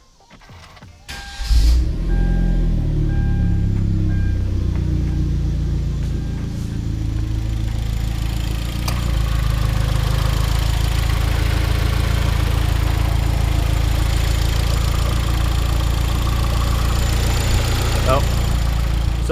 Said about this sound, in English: Let's hop back in the car and start it up.